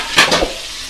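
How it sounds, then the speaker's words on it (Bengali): Slices of pointed gourd (potol) frying in oil with a little salt, a couple of quick stirring scrapes followed by a soft, steady sizzle, close and alone. "পটলগুলো ভাজা হতে থাক।"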